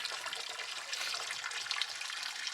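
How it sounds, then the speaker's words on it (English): Water drains steadily from an RV fresh water tank, a continuous close rushing hiss with no pauses and no voices. "So we are draining the water right now from the tank."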